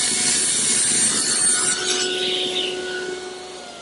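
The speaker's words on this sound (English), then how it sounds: "With my 1/4-inch roundover bit, I'm able to make this bead detail around the draw front." A router fitted with a 1/4-inch roundover bit shapes a bead detail along a wooden drawer front, a loud close continuous high whine and rasping cut that shifts in pitch and tapers off near the end.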